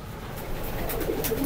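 Highflyer breeder pigeons in a loft coo softly in low throaty murmurs over a busy background hiss, a few short calls close by.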